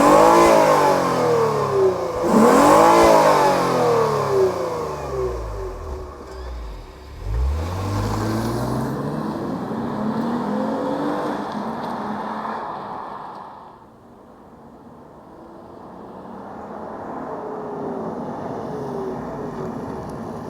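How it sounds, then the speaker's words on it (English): Naturally aspirated engine of a 2023 Lexus RC 350 F Sport AWD starts and revs: several loud, close blips climb and fall in pitch, then settle into a smooth idle hum, with no talking. "let's fire it up and hear what it sounds like."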